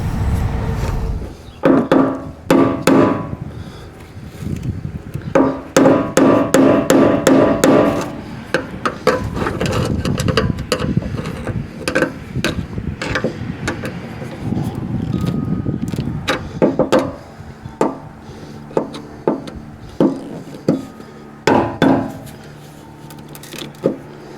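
Rapid metallic and woody knocks strike in irregular bursts, loud and close, mixed with scraping and clattering as a hammer drives a screwdriver to work loose a filter on a 1989 GMC dually truck.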